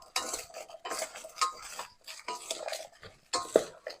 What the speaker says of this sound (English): I'm going to stir it to coat.